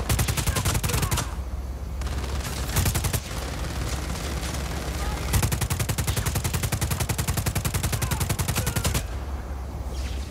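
Gunfire in the video game Just Cause 4: loud, sustained rapid automatic shooting with short breaks between long bursts, several weapons overlapping.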